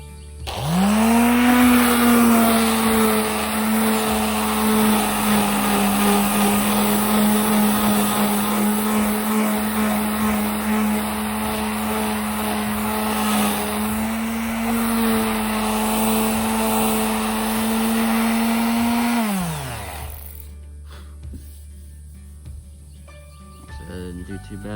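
A power sander with 180 grit paper works across the aluminum hull of a jon boat, a loud steady whine that holds for about twenty seconds and then spins down to quiet.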